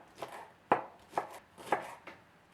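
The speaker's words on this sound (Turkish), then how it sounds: "İşte soğanları doğramakla başlıyorum" A knife chops onions steadily on a cutting board, five or six crisp thuds at an even pace, close up with no talking.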